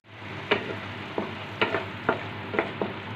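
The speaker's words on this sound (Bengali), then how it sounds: "মশলাটাকে ভালো করে কষাতে হবে, যতক্ষণ না তেল ছেড়ে দেবে ততক্ষণ করতে হবে" Spice masala stir-fried in oil in a pan for kofta curry: a soft continuous sizzle with about seven distinct scraping spatula strokes at uneven intervals, close and clear, with no voices.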